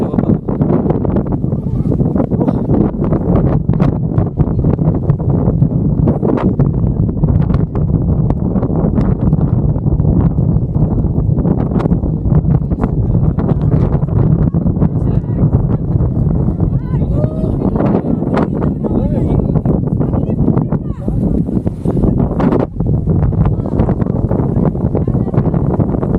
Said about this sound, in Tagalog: Masyadong malakas na ang hangin.